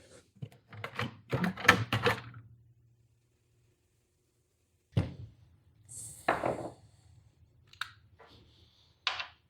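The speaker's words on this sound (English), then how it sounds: "Just trying to find my socket here." Metal tools clink and clatter in short bursts while a socket is hunted for during a Mini Cooper R56 front crank seal job, with long quiet gaps and brief talk at the start.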